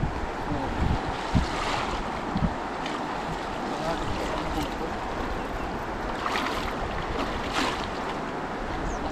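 Rushing water across a wide river seen from a red bridge, a continuous broadband wash with wind buffeting the microphone and some scattered background voices.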